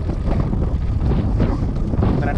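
Strong wind gusts across a rough, potholed desert road in Mauritania, roaring steadily and loudly with low buffeting rumble against the microphone throughout, no clear talk.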